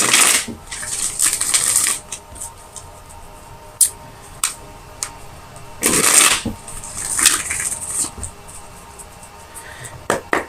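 Tarot cards being shuffled: repeated bursts of crisp riffling and slapping, close and fairly loud, with brief pauses between shuffles and no talk.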